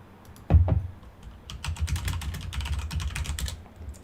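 Rapid typing on a computer keyboard at home, with a loud thump near the start followed by a steady, close run of dense key clicks with no talking.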